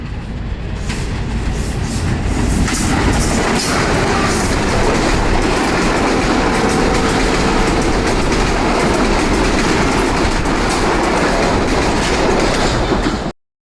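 A train rolls along the railway line running through Rajshahi University campus in Bangladesh, loud and close, with steady clickety-clack of wheels over rail joints sustained throughout, then cutting off abruptly at the end.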